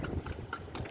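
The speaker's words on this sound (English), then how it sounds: "it's my first time after 10 years of riding a horse again" Horse hooves clip-clop steadily on pavement while pulling a kalesa, a horse-drawn carriage. The beats are close and evenly paced over a constant low rumble of traffic.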